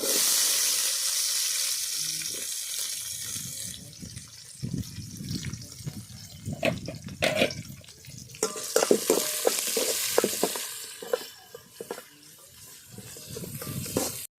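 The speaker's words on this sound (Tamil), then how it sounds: "கட் பண்ண வெங்காயத்தையும் சேர்த்துக்கலாம்" Chopped onions sauté in a pan with a strong, close sizzle and repeated scraping stirs, bursts of hissing rising and falling, no talking heard.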